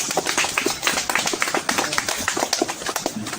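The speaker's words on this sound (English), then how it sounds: "Give him a round of applause." Crowd applause at an honorary doctorate presentation, a dense patter of many hands clapping steadily at moderate volume with no voices.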